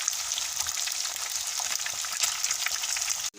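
Fish fries in a pan with oil: a steady, close, hissing sizzle with small crackles and pops throughout, no talking.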